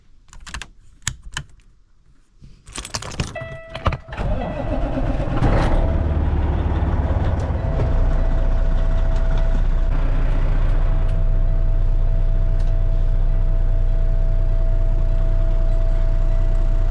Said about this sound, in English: We're out here in the truck getting it warmed up.